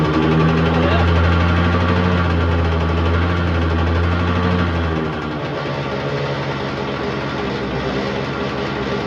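A classic Yamaha RD80 two-stroke motorcycle engine idles close by with a rough, buzzing putter and settles to a lower, steadier note halfway through.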